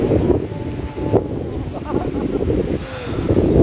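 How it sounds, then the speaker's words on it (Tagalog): Strong, cool wind blusters across an outdoor microphone, a loud, continuous rumble with heavier gusts swelling and easing. "Grabe ang hangin dito."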